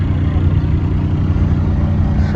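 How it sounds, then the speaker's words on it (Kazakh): A 1994 Toyota Carina E with a 2-litre petrol engine and automatic gearbox idles nearby, giving a steady, loud, low rumbling hum with no revving, while a voice talks over it. "Осы кезде көлік оталып тұр."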